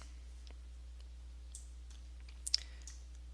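A few faint, dry mouse clicks on an office computer, the clearest a sharp pair near the end, set against a low steady hum in an otherwise quiet room.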